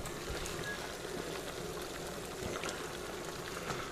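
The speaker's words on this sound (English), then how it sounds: "They're going to go into boiling water here, rapidly boiling water." Water at a rapid rolling boil in a pot on a kitchen stove, a steady dense bubbling and hiss heard close up, continuous and fairly quiet, with no talking.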